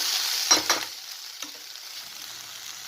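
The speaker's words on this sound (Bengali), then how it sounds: "এর মধ্যে বড়িগুলো দিয়ে দিলাম তারপরে একটু নাড়াচাড়া করে দিলাম" Lentil dumplings (bori) stirred into a yardlong bean curry in a pan, a soft hiss of frying with two quick scraping stirs near the start and a faint clink later, close and fairly quiet with no talking.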